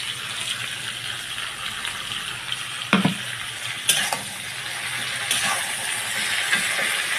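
Spice masala with cinnamon sizzles and hisses in a hot pan on a home stove, a steady close crackle broken by a few sharp clanks of stirring.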